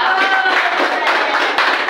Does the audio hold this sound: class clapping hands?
yes